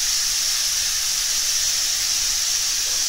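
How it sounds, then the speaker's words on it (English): Onion sautéing in a kadai, a loud, even, continuous hiss of frying that holds steady from start to finish with no pauses and no voices. "We will again saute the onion and we will cook till it is little brown in color."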